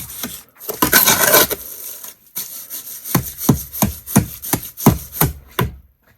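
Wet concrete being mixed for a bonsai pot mold, a burst of gritty scraping followed by a series of rhythmic scooping strokes, close and fairly loud, with no talking.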